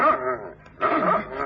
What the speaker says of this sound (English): The dog. It's Tootsie.